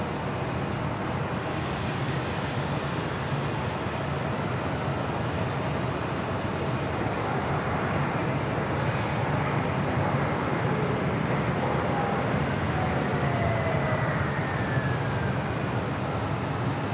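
A JetBlue A320 in special livery taxiing to a gate at JFK Terminal 5, a steady distant broadband jet engine rumble and whine that holds level throughout, with no voices.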